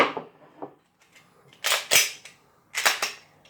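Pistol dry-fired on a snap cap: several sharp, close metallic clicks and slide or trigger snaps, separated by brief pauses, alone without talk.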